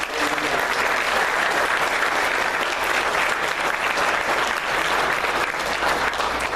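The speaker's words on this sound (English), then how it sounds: "Freshmen, again, a round of applause for you" Sustained, dense applause from a large crowd at a high school football banquet, steady and loud throughout with no pauses.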